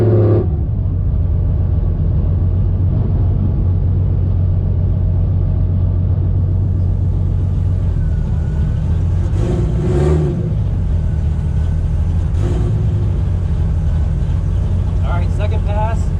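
A 1JZ-swapped Fox Body Mustang accelerating down a drag strip, its engine a loud steady rumble that climbs in pitch, with brief breaks at gear shifts, heard close and continuously.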